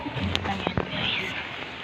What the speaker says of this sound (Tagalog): Magpapayong tayo, guys, kasi mababasa tayo ng ulan.